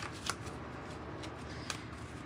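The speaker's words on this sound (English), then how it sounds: "Let's shuffle just a little bit." Tarot cards shuffled by hand in a quiet room, a soft continuous riffling with a few sharper flicks and snaps, close and fairly faint.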